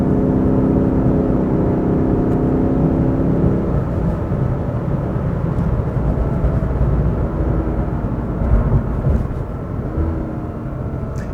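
Lexus RC F in Sports Plus mode starts with a droning exhaust note that swells into a broad, loud roar as the car accelerates hard. The sound is close and continuous, with no one talking.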